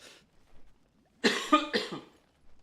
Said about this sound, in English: I think I really have got a cough